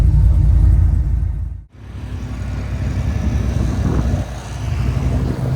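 A car on a street test ride rumbles steadily with low engine and road noise, loud and close, with a brief dip in the middle before the drone resumes.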